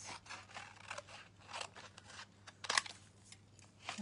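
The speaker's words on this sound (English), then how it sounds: "Got my trusty scissors." Scissors snip through paper while fussy-cutting paper dragonflies for a craft, giving a string of soft, close, intermittent cuts and crunches at fairly low volume.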